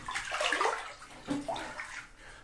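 Shower water running in a wet bathroom, a steady hiss of spray that rises and falls as it splashes, fairly close and moderately loud with no voices.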